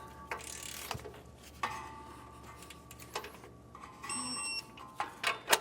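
Ratchet wrench tightening the mounting bolt of an Air Lift LoadLifter 5000 rear air helper spring on a 2024 Ford truck: several short bursts of clicking pawl strokes, fairly close, separated by pauses, with no talking.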